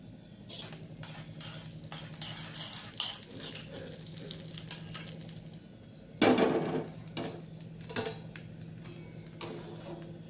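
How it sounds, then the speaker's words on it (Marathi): Cashews and almonds frying in a little ghee in a small tempering pan, a soft sizzle under repeated knocks and clatters of a spoon against metal, with one louder burst of scraping midway and no talk. "त्याच्यात दोन चमचे तूप टाकणार आहे काजू आणि बदाम थोडे फ्राय करून घेणार आहे"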